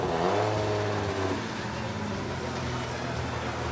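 A DKW car engine revs loudly at close range, rising at first and then holding a steady rumbling drone.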